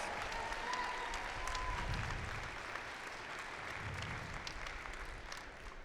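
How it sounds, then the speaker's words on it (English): Crowd applause at the day-two opening ceremonies of a district event, honoring someone called to the stage: steady, even clapping from a large audience, heard at a distance and fairly soft throughout. "please give Jeff a big round of applause"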